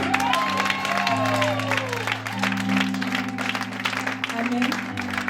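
Audience applause at a church conference, steady clapping throughout under sustained organ or keyboard tones and some cheering.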